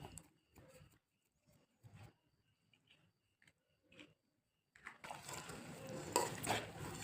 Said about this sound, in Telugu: ఉడుకు మీద నేను కలిపేస్తున్నాను